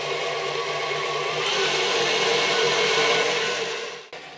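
An electric mixer beats cocoa frosting in a bowl with a loud, steady whirring drone that swells slightly midway, then cuts off abruptly near the end.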